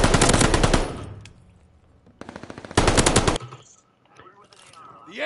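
AR assault rifle fire in a video game: loud rapid automatic bursts, one long volley at the start, then two more sharp bursts a couple of seconds later, with quieter game sounds between them.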